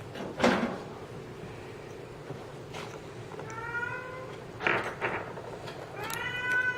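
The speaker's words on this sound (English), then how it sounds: "Sorry about my talkative cat." A cat meows several times, short drawn-out calls spaced a few seconds apart, close by, with a couple of soft knocks in a quiet room.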